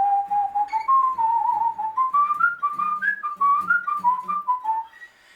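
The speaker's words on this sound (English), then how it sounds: "So if I'll just whistle the first little part of the tune." A person whistles the opening phrase of the Kesh Jig, an Irish jig in a major key, as a steady, lively melody of clear pitched notes heard close and alone.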